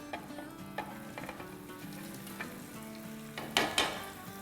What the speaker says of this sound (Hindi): तो यहाँ देखिए तेल गरम गरम हो गया है और यहाँ हमारी फ्राइज़ थोड़ी ठंडी ठंडी हो गई है। तब दोबारा इसको रीफ्राई करेंगे फॉर 30 सेकेंड।